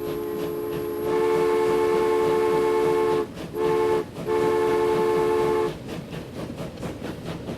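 A train in the Transport Fever video game blasts its horn in loud, sustained chords broken by two brief gaps, over a constant rolling rumble that continues after the horn stops.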